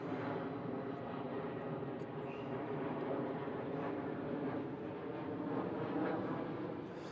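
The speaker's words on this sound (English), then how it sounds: "let's wait for this plane to go back over" An airplane drones overhead as a steady, faint, broad engine rumble that holds for several seconds at a distance, with no voices.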